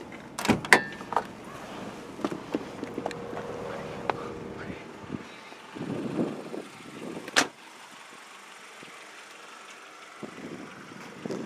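Hood of a 2005 Mitsubishi Eclipse being opened, with a few sharp metallic clunks and latch clicks spread over several seconds amid quiet surroundings, close by.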